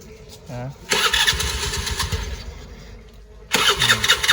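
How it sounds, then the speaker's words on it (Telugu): A motorcycle engine is started, cranking and catching into a loud close-up rumble that runs for a few seconds and returns after a short lull, with a voice talking briefly at the start. "మనోడైతే బండి స్టార్ట్ చేస్తున్నాడు"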